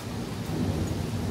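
A deep, rolling rumble of thunder close by, heavy and continuous, mixed with steady rain during a November rainstorm in Pattaya, Thailand.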